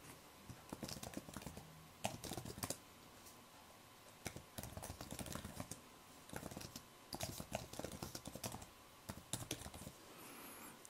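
Typing on a Microsoft Surface Pro type cover keyboard, a close, quiet run of soft key clicks in uneven bursts with short pauses between them.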